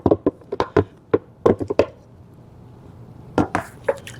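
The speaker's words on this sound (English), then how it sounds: "Then you're going to put in the potatoes and the carrots." Potato and carrot chunks are dropped into a pot of Hungarian goulash, making a quick run of soft knocks and taps. A short pause follows, then a few more clunks.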